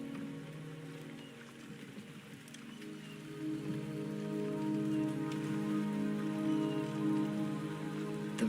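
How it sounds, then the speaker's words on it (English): Steady rain falls on surfaces in the Wuthering Waves game, a soft continuous patter of drops that thickens and grows a little louder partway through, with no voices. "The rain is subsiding"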